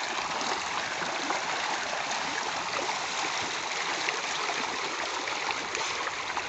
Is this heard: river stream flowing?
yes